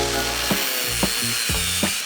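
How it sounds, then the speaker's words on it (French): Expanded metal mesh grille being cut for a DIY coffee table, a close, loud tool cut with a rhythmic pattern of four sharp strokes about half a second apart over a steady harsh noise. "À l'étape suivante, nous pouvons découper la grille en métal déployé"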